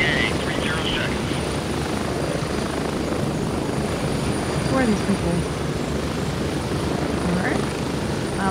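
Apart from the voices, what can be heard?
helicopter flying overhead in Gray Zone Warfare video game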